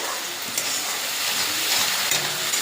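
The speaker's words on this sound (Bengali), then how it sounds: "এখন ভালো করে কষা যতক্ষণ তেল না ধরাবে ততক্ষণ কষিয়ে যেতে হবে" Homemade biryani masala fries in hot oil with a loud, dense, continuous sizzle and hiss. Faint scraping stir strokes run through it, and no voices are heard.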